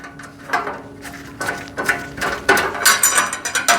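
A screw is tightened into a rivet point on a metal bin organizer rack during assembly, heard as close, loud ratcheting clicks in quickening bursts that grow louder toward the end.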